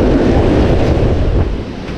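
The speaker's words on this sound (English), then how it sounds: "I don't like how the water is rough still" Rough sea surf rolls onto a Jamaican beach, a loud, steady roar of churning water mixed with heavy wind buffeting the microphone.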